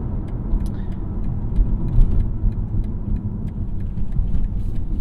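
A 2023 BMW X1 pulls up a highway on-ramp, heard from inside as a steady low engine and road rumble swelling slightly as it gains speed, with faint ticks and rattles above; no one speaks.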